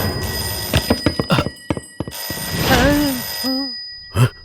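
A telephone rings in a busy office scene, its warbling electronic trill repeating in short bursts between clipped voices and knocks, with a final louder ring at the end.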